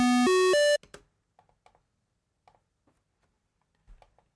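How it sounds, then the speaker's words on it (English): Square wave synth arpeggio in an ambient electronic patch: three bright, buzzy stepped notes ring loudly and cut off abruptly, followed by sparse, faint clicks and ticks in near silence. "this is going to be a square wave"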